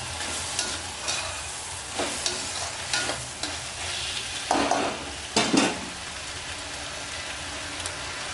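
Vallarai greens sauté in a hot pan for a Chettinad chutney, giving a steady sizzle. Louder bursts of scraping mark the stirring at irregular moments, and nobody speaks.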